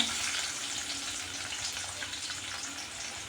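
Chopped onion hits hot oil with urad dal in a pan while making a rava breakfast dish, giving a steady, moderately loud hiss and sizzle throughout with no talking.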